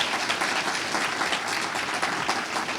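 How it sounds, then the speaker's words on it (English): Audience applause fills a keynote address hall at a national Aboriginal moot competition, a steady dense clapping that holds at an even level throughout with no talk over it. "give yourself a round of applause as well, because you deserve it"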